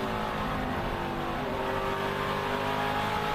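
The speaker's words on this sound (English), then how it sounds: "Listen how little off throttle time there is for Majeski" NASCAR race car driven by Majeski in practice, engine held at full throttle in a continuous loud, even roar with no lift-off.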